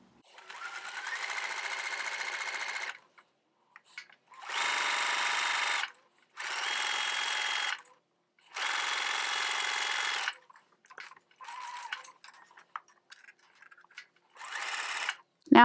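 Sewing machine stitching shirring with elastic thread on knit fabric, running in several close, loud whirring bursts of two to three seconds each, separated by pauses with small handling noises.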